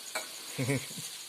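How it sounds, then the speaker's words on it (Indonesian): Grasshoppers frying in a pan: a faint, continuous sizzle with a few short stirring scrapes and clinks partway through, quiet and close. "Dan kita masih goreng walang."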